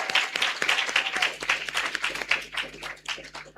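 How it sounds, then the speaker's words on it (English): A graduation-ceremony audience at the JamCoders 2026 summer camp applauds the organizers and committee members, a dense, steady wash of many hands clapping close by for several seconds, with no speech over it. "Let us give a round of applause for them."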